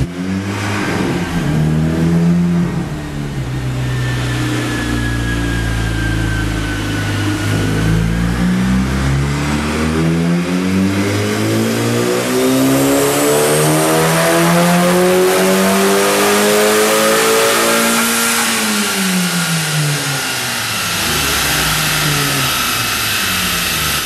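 A turbocharged car fitted with a FrankenTurbo F23T drop-in kit and K03 software, run on a dyno at actuator boost pressure; a loud, sustained engine pull rising steadily in pitch through the gears, with turbo whine on top.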